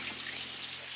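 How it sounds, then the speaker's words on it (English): Water pours steadily from a pot of cooked spaghetti as it is drained, a continuous close hissing splash for a short moment. "Now, the pasta is ready, and I'm gonna take off the water."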